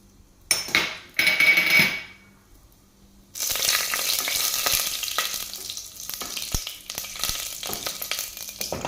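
Whole spices, peppercorns, cloves, cardamom and star anise, frying in hot oil for veg pulao, crackling loudly after a few clattering drops into the pan, then a steady close sizzle with occasional stirring clinks.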